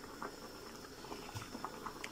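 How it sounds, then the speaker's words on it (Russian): Bulgur boils in a pot of water, giving a soft, steady bubbling with scattered small pops and gurgles, close and fairly quiet. "Так, булгур закипел"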